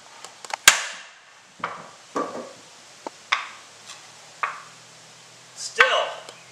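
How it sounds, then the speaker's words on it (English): A 3-pound sledgehammer strikes a Twig Magic Stick in a series of sharp, separate wooden knocks, about eight hits spaced irregularly, each with a short ringing decay. "Let's try the sledgehammer again."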